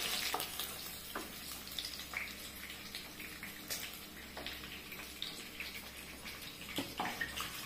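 Chicken pieces fry in ghee in a pan, giving a soft, steady sizzle with faint clinks and scrapes, close but quiet, with no voices.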